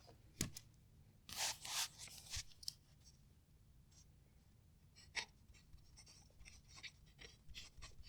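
Visconti Homo Sapiens fountain pen with a broad 18 karat gold nib writing on Iroful paper, giving faint, close scratchy strokes in short irregular bursts, with a few brighter scrapes early on and quiet gaps between.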